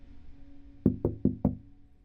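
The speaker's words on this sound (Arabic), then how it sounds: "لقيت حد بيخبط على الإزاز" Four sharp knocks on a car's window glass, evenly spaced and close, in a quiet interior with no talking.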